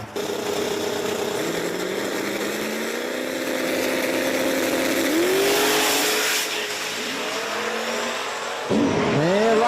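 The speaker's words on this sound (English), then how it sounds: "Got the Street Tees Mustang there in the left lane going up against the Nova" Drag racing at Virginia Motorsports Park: the Street Tees Mustang in the left lane against a Nova, loud roaring engines rising in pitch as the cars accelerate down the strip, with a sharp fresh rev surge near the end.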